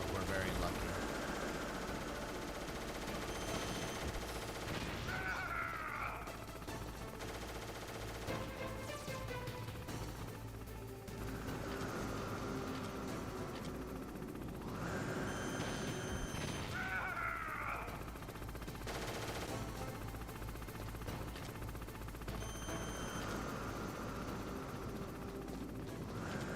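Repeated bursts of gunfire ring out in the PS1 game Metal Gear Solid, in steady volleys over a constant loud game backdrop with whooshing swells, and no voices.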